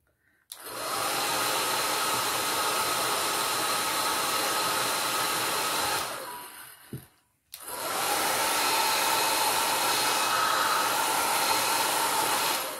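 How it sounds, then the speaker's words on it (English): A blow dryer roars steadily and close while it pushes alcohol ink across coasters, stops briefly with a click and thump, then starts up again and runs on at full strength. "Now the blow dryer will gently move your alcohol around, your ink around, and it also sets it."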